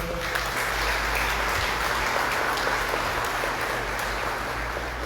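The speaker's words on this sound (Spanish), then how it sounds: "démosle un fuerte aplauso a Cristian." A church congregation at a Sunday Mass gives a strong, continuous round of applause, a dense, even roar of clapping filling the room throughout.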